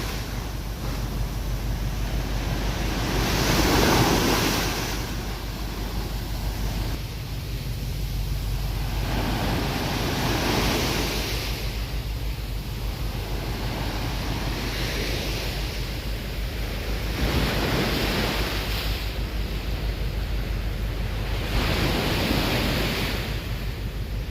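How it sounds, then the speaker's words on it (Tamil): Ocean waves wash onto a beach near Labrador Park, Singapore, surging in repeated swells every few seconds, with wind buffeting the microphone between the breaking rushes. "லெபடோர் பார்க் பக்கத்தில் இருக்கிற பீச்சில் தான் இருக்கிறோம்"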